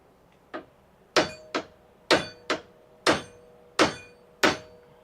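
A hammer striking metal in a home garage fabrication shop, eight sharp ringing blows in an uneven rhythm about half a second apart, close and clear with no talking.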